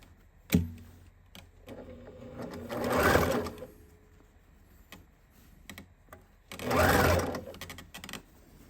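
A sewing machine stitches fabric for a pillowcase in two short bursts of whirring, separated by quiet pauses with scattered clicks and a sharp knock near the start.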